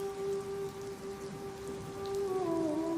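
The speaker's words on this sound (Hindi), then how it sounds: "छुप जाए कहीं आके बहुत तेज़ है बारिश" Heavy rain pours steadily onto surfaces as a dense continuous hiss, with a sustained musical tone running through it and bending slightly lower near the end.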